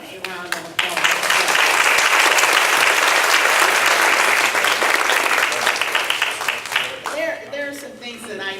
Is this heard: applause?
yes